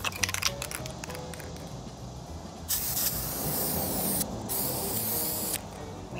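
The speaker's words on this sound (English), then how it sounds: "So let's get to spray painting." Steady hissing bursts of an aerosol spray can, several long sprays in a row with short pauses between, close and fairly loud.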